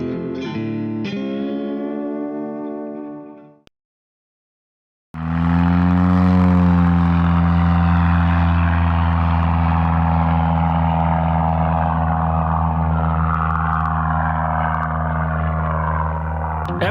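A small airplane engine drones steadily and loudly, preceded by a brief sputtering start and a pause before the sustained propeller hum.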